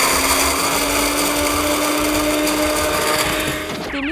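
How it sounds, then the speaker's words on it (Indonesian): A blender grinds red chilies together with garlic into a paste, running as a loud, steady whir that holds throughout and drops away in the final moments. "Lalu blender cabai merahnya bersama dengan bawang putih."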